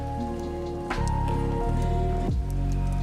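Faint water drips somewhere far off inside an old haunted manor, a soft steady patter beneath a low, eerie musical drone, with no voices.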